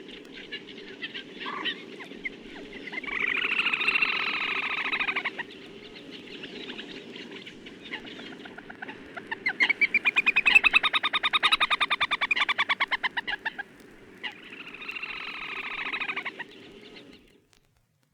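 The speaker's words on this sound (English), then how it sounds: "here are two trilling away with a moorhen in the background" Two little grebes trill in long rapid bursts beside a gravel pit, three separate spells of bright whinnying chatter over a steady low background, with a moorhen calling faintly behind them.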